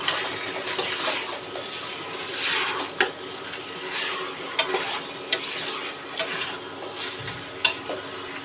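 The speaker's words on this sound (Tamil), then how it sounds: "தக்காளி சேர்த்து நல்லா சிக்கன் மிக்ஸ் பண்ணி நல்லா வேக விடலாம்" Chicken and tomatoes being stirred in a pan for a North Indian chicken thari, steady scraping and soft sizzle with scattered sharp clicks of the spoon against the pan, close and alone.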